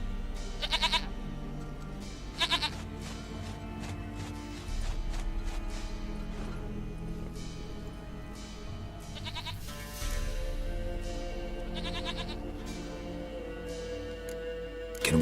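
A goat in The Witcher 3 bleats in a few short, nasal calls spaced across the stretch, heard fairly close over a steady game ambience with occasional hoof-like clatter.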